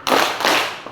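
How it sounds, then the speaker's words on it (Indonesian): Two sharp hand claps ring out close together in a classroom clapping routine, followed by a faint third tap. "Kalau ibu bilang tepuk siang, tepuknya 2 kali"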